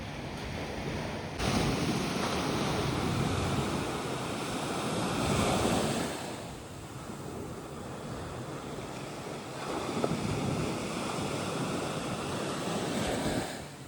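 Sea waves break and wash repeatedly onto Bournemouth Beach at night, a loud rolling surge that swells and recedes in several sets, with wind buffeting the microphone throughout.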